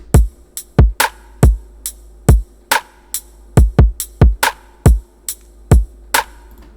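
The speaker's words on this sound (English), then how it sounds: "And the drums soloed, they sound like this." A sparse, syncopated electronic drum loop of snares and hi-hat with punchy, sharp hits and a low steady hum underneath, played alone and close.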